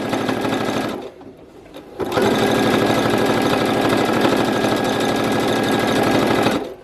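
Sewing machine stitching across a belt with Velcro, running loud and steady in a fast mechanical rhythm, pausing briefly near one second before resuming at full speed.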